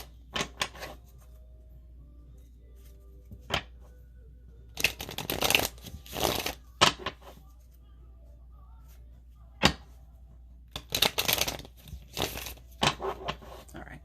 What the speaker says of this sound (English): That was a really shitty shuffle.